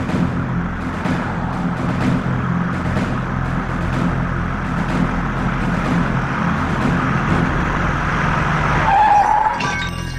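A car in a Tamil film kidnapping scene roars continuously as it turns around, with a brief tire squeal rising near the end over the loud engine and road noise.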